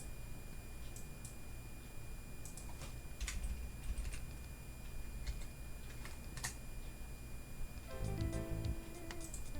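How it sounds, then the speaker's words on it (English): Fingers tapping on a computer keyboard in quick irregular bursts of clicks, fairly quiet and close, with a soft tonal hum entering near the end. "it's very hard to type with you sitting on my keyboard"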